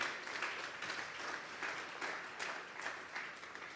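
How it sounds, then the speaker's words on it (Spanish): A church congregation applauds steadily at a low, distant level, the clapping sustained and even throughout with no voices over it. "Vamos a darle un fuerte aplauso al Señor esta noche."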